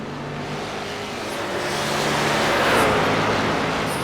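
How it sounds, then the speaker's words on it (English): A GT3 race car in a racing video game at Watkins Glen roars past the start-finish line onto the final lap, its steady engine drone swelling as it passes close by, then easing slightly, with no talk. "we got Southgate passing the start-finish line, starting the final lap of the race"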